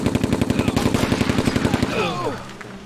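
Rapid, steady bursts of heavy machine gun fire in the turn-based tactical game Silent Storm, a loud, evenly spaced string of shots lasting about two seconds, then a trailing ring and a short mechanical whir.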